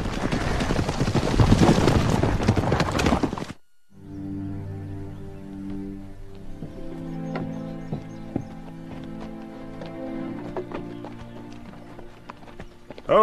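Horses arrive after a burst of loud noise and clop along at a trot, their hooves giving an irregular run of close clip-clop knocks over a low rumbling background.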